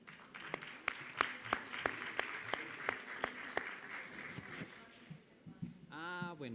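Faint, evenly spaced handclaps at a conference plenary on democracy in Brazil, greeting a senator. The claps keep a steady rhythm of roughly three per second, then taper off as a voice begins speaking.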